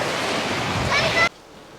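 Sea waves wash onto a Scottish beach as a steady, close broadband rush with wind noise, cutting off abruptly after about a second.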